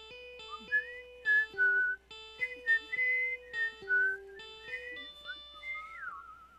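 A soloed whistle line from a song outro, heard alone and clearly as a string of sustained melodic notes with short gaps, a longer sliding tone at the end, and steady low instrumental notes beneath.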